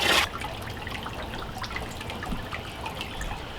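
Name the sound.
water from a hose filling a DIY outdoor fish pond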